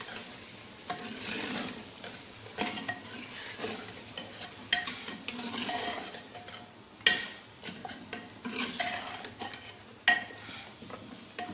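Garlic-ginger paste is stirred into katwa meat in a pot, making repeated scraping strokes and knocks of the spoon over a low sizzle, in an uneven rhythm of bursts and clicks, with no talking.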